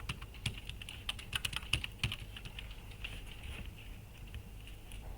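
Typing on a computer keyboard, with a steady patter of close, fairly quiet keystrokes and a few brief flurries.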